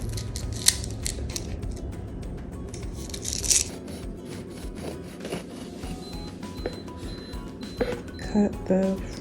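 Scissors snip open a packet of sprinkles while a pound cake is decorated in a home kitchen, giving a few sharp cuts and crinkly rustling over background room noise, with a voice talking nearby.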